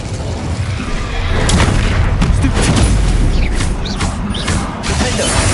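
The Incendio fire spell is cast in Hogwarts Legacy: a loud, dense burst of crackling, booming fire with mechanical clatter and rumbling low impacts, sustained for several seconds.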